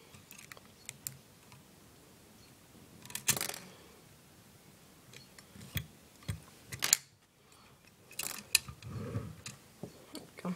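Small plastic compartment doors on a 1/50 scale Pierce Quantum fire engine model click open, a few sharp, close taps and snaps scattered across a quiet room.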